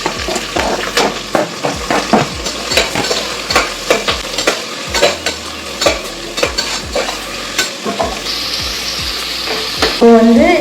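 Whole spices and onion fry in oil inside a pressure cooker, with a steady loud sizzle broken by repeated spoon scrapes and stirs, and a rising hiss near the end.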